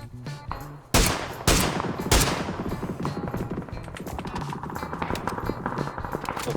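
Rapid gunfire in the battle royale game PUBG, with several loud, sharp shots early on followed by a steady stream of quicker, lighter shots and rattling game sounds, with no talking.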